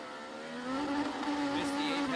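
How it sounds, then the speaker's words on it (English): An IndyCar race car engine revs during a practice session, a steady high engine tone rising in pitch as it accelerates, heard at moderate level beneath a commentator's voice. "Hear the engine rev up"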